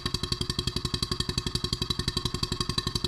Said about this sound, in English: So now we are running the generator.